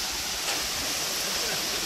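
Steady rushing water at Thusharagiri waterfall running low, a continuous broadband wash that fills the short stretch without pause.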